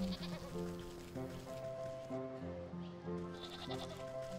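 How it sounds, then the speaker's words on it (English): A sheep bleats repeatedly in the video game Wytchwood, a series of wavering, nasal bleats in quick succession at moderate volume over soft ambient game sound, with no talk. "I can hear him bleating at me"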